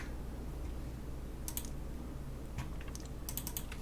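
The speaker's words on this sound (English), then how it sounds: "If I can type." Light keyboard typing while entering numbers into Excel on Windows Vista, a few short bursts of faint key clicks over a steady background hum, no talk.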